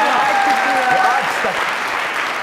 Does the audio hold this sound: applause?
yes